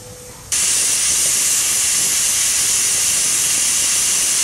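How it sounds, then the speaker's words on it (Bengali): A pressure cooker with mutton inside lets out a loud, sustained steam whistle that bursts in abruptly after a brief quiet moment and hisses steadily to the end. "কেবল একটা সিটি পড়লো, আর 3টে সিটি মারলে আমাকে মাংস হয়ে যাবে প্রেসার কুকারের"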